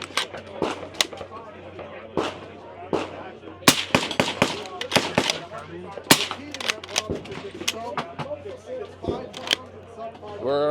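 Gunshots from a Henry 300 Blackout rifle at an outdoor range, a series of sharp, irregularly spaced cracks amid handling clicks, with people talking throughout.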